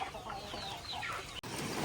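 A tailless-breed backyard chicken clucks close by in a garden, giving quick, chattering calls in a continuous run that ends in a short burst.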